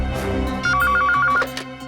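A telephone ringing indoors in a tense crime-drama scene, a rapid electronic trill in short regular bursts over a low background hum, fairly loud and close.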